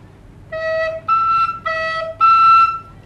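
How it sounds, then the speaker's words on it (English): A recorder plays four short sustained notes, moving between low E and high E, the high E made by half-covering the back thumb hole. Each tone is clear and steady, played solo with short gaps and no talking. "I'm gonna play the low E and the high E."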